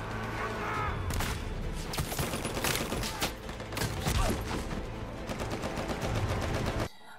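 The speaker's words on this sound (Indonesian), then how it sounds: "Sersan Howell menembak para tentara Jepang." Dense gunfire from a Hacksaw Ridge film battle scene, rapid bursts of rifle and machine-gun shots overlapping in a loud, chaotic volley that cuts off abruptly near the end.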